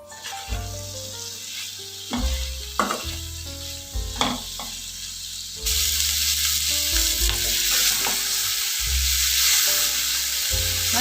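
Garlic, Kashmiri chilli powder and spices frying in a pan for a prawn Manchurian, a soft constant sizzle with intermittent stirring knocks, heard beneath steady background music.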